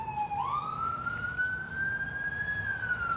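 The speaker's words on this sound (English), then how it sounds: "The sirens are coming." A single siren wails nearby, its pitch rising and holding in one long sustained tone over traffic noise.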